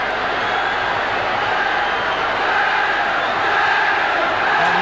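Large rugby league crowd roaring steadily at a Wigan v Manly match, a dense continuous wash of cheering and shouting that swells slightly toward the end, with no clear individual voices.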